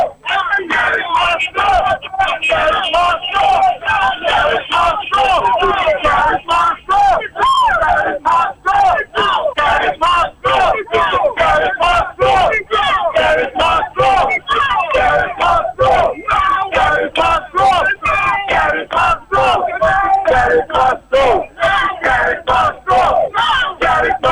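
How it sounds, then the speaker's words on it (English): Outside police headquarters, a large protest crowd chants a repeated slogan in a steady, pulsing rhythm, loud and sustained throughout without a break. "you can hear the crowd outside police headquarters chanting"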